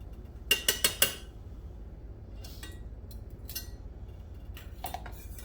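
A spoon stirs gelatin into a sauce for sour cream chicken enchiladas, first with four quick sharp clinks against the bowl, then softer scattered scrapes, close and quiet.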